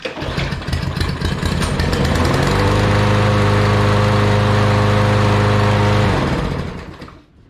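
A Craftsman lawn mower engine sputters to life and settles into a steady, loud droning run close by, then fades out at the end.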